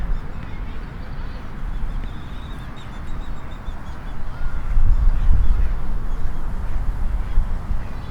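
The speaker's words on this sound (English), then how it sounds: "Looks like we got some more ducks" Ducks foraging for bugs in the grass of a park, giving faint, scattered quacks at a distance over steady outdoor ambience with low wind rumble.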